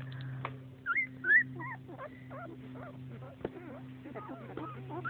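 Twelve-day-old puppies whimper and squeal in a series of short rising yips close by, over a steady low hum, with a brief thump in the middle.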